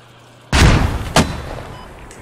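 Mortar firing in Squad, a single sharp loud boom with a second quick report about half a second later, decaying into a short rumbling tail.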